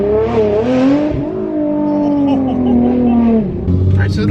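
A 900 horsepower Nissan GT-R launches and accelerates hard, its engine note rising steadily as it pulls, loud and close from inside the car, with people talking over it before it cuts off.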